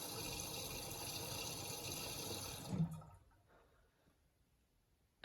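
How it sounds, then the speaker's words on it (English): Water gushes and rushes steadily into a washing machine's detergent compartment at the start of a 95° boil wash, then cuts off abruptly, leaving near silence with a faint trickle. "And now the water comes in the detergent compartment."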